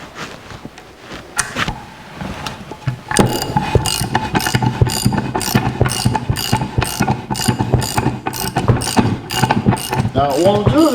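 Screw-in steel bushing tightened onto a shaft of a 1964 C10 pickup with a ratchet, rapid steady clicking bursts up close, continuing for several seconds after a few slower clicks.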